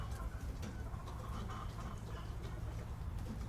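Ornamental chickens of a large, docile English breed clucking on a farm, scattered soft clucks and bird calls over a low steady background rumble, with no talk.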